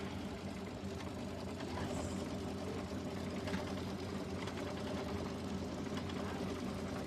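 Embroidery machine straight stitching a mini quilt, producing a steady, fast, rattling needle chatter that runs continuously at moderate level without voices.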